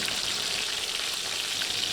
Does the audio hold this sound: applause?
no